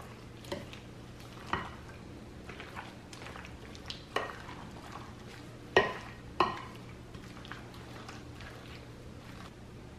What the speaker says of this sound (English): I'm going to fold and stir the vegetables in.